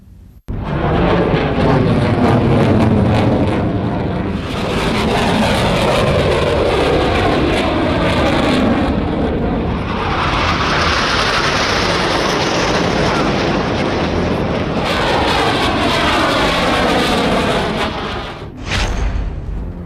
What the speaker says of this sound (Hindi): हिंडन एयरबेस पर रफाल, सुखोई, मिग, अपाचे जैसे कई फाइटर्स ने अपनी ताकत दिखाई।